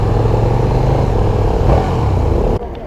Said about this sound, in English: I love the way the engine sounds. That's a stock pipe.